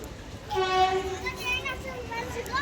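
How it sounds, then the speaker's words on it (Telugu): A train passes near Falaknuma railway station, giving a sustained horn-like tonal blast with a noisy rumble beneath it and crowd chatter around it. "ఫలక్నామా స్టేషన్ దగ్గర ట్రైన్ అయితే వెళ్తుంది."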